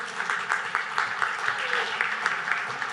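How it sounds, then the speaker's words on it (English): An audience at a policy panel event applauds a steady run of claps at moderate level, close and even, with no speech over it. "Yeah, you can clap."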